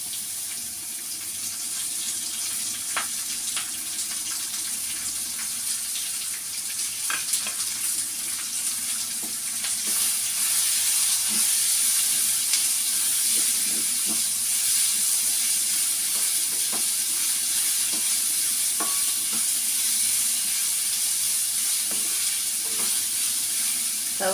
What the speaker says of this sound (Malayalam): നമുക്ക് സവാള ഇട്ട് കൊടുക്കാം കേട്ടോ. സവാള ഉണ്ട്, അതിൻ്റെ കൂടെ 2 പച്ചമുളക് ഇട്ടിട്ടുണ്ട്